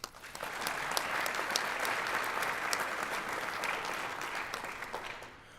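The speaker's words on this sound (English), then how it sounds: "Round of applause." An audience at a school board meeting applauding to honor a retiring staff member, a dense crowd of clapping hands that swells quickly, holds steady for several seconds, then tapers off.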